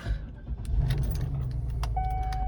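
A 1999 Cadillac Eldorado convertible's engine starting at dusk, with keys jangling in the ignition and the motor's low rumble settling into a steady idle, close by.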